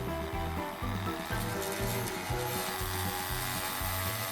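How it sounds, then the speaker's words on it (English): A Dremel rotary tool spinning the wheels of a model train, giving a loud, steady high-pitched whine with a grinding edge close by, held without pause. "So I'm going to use the Dremel to spin the wheels"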